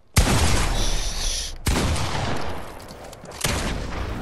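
Three loud, close gunshots in Fortnite during a 1v1 match, each a sharp crack with a long booming tail, spaced roughly a second and a half apart.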